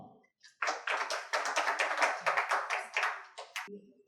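An audience claps at a Tamil literary book-release ceremony: a brisk, steady round of many hands lasting about three seconds, then stopping abruptly, with faint sounds before and after.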